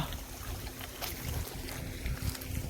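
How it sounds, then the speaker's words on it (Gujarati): Strong wind rushes outdoors in a steady, low roar that buffets the microphone, with no voices. "બહુ પવન છે જાણે એમ થાય બધું પાડી દે"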